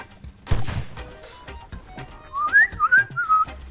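Kill sound effect from the Roblox game Base Battles, a bright wavering whistle-like tone of rising and falling pitch lasting about a second, heard after scattered gameplay thumps and impacts.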